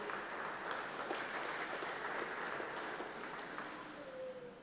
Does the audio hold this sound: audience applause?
yes